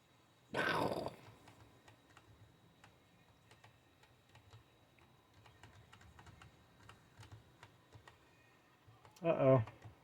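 Computer keyboard keys tapped in scattered clicks during a driving video game, faint and close, with two short louder bursts of sound at the start and end.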